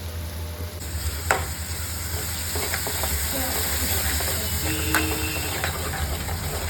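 Coriander powder is stirred into a sizzling pan, producing a soft continuous sizzle with spatula scrapes and light clinks near at hand.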